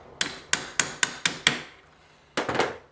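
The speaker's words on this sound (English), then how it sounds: "put it over top of the peg and tap it out with your hammer" A hammer taps a steel pin punch to drive a peg out of an antique window sash: six sharp, evenly spaced metallic strikes, then a pause and two more close, ringing blows.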